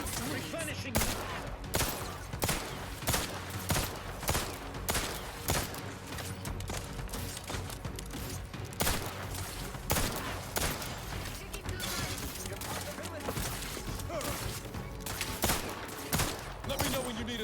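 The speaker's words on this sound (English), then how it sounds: "Keep shooting them." Dense, rapid gunfire from a video game shooter fills the whole stretch, continuous bursts with regular louder shots layered over a thick mix of effects, while players talk over the action.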